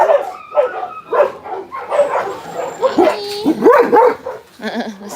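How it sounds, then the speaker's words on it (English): A dog barks and yips repeatedly up close, with whimpering high notes between the barks and a person talking over it. "he's back at barking again."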